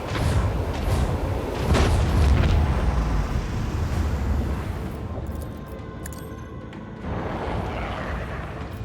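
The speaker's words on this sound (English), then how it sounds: "Unleash the storm of macro cannons!" Heavy macro cannon volleys and explosions in the space-combat game Rogue Trader, a loud continuous rumble of booms that thins briefly before swelling again.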